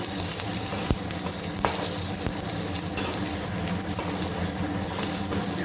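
Chutney ingredients sautéing in a pan as a grandmother cooks, with a steady sizzle and the scrape of stirring and occasional sharp ticks, close and continuous, without voices.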